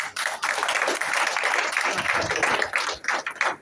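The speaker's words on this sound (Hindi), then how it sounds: "अब इनके लिए आप तालियां बजाइए" An audience claps together in a steady round of applause, a dense patter of hand claps that holds for several seconds and then tapers off near the end.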